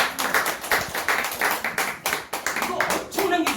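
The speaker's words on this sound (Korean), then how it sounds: "여기 박수 한번 주세요, 여러분들." An audience at a Korean talk on IPFS and Filecoin claps in uneven bursts, individual hand claps standing out, with speech briefly between them.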